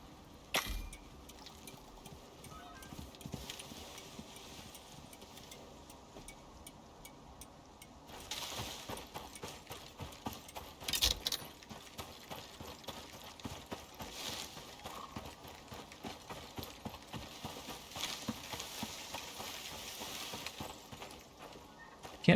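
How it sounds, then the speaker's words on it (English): A character runs and stomps across terrain in the video game Icarus, producing a steady stream of faint, rhythmic, clip-clop-like footfalls with a few louder thumps and a low background hum throughout. "'Cause I'm just kind of running around and stomping everywhere."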